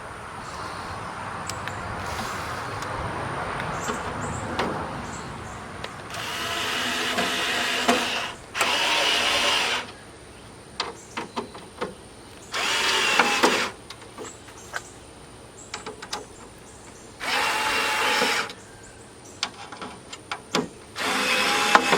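A power drill drives screws while a Jeep tailgate table is installed, with several short whirring bursts of a few seconds each breaking through a steady background hum.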